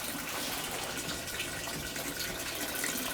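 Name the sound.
water running into Haier HPL21N portable washing machine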